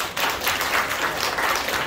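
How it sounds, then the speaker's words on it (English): Applause from a church congregation at a Sunday worship service, a dense wash of clapping lasting under two seconds, steady and fairly loud with no talk. "Let's give a big round of applause."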